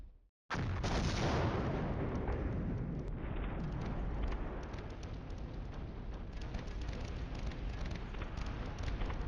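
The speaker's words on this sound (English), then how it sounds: "Taking artillery up here. Yeah. Here come the mortars." Mortar and artillery fire rumble in the wargame Flashpoint Campaigns: Cold War, a sudden heavy blast giving way to a sustained, crackling barrage of distant booms and patter that keeps rolling.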